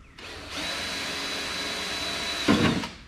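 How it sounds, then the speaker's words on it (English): Power drill boring a screw hole through glass while installing an interior part, a steady high whine running for about two seconds, then a brief louder grinding burst near the end. "Let me back this drill bit in so we don't just blow the glass out being stupid."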